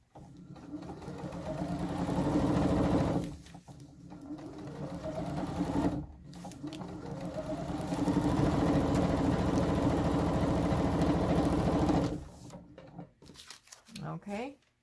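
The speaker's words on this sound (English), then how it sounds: "Put it in your sewing machine." A sewing machine stitching fabric strips onto paper for string quilt blocks runs in several long bursts of rapid, rhythmic stitching, pausing briefly between runs, close and fairly loud.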